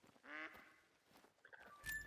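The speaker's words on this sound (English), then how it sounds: "No, there's some ducks above." A flock of ducks quacks overhead in the hunting game The Hunter: Call of the Wild, with a few clear quacks early, softer calls after, and a sharp louder burst near the end.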